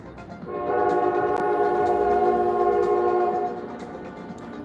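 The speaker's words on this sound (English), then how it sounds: "I actually did some research on train horns." A train horn blows one long, steady, loud blast lasting a few seconds, heard outdoors in snow over the low rumble of the train, then fades back to the background noise.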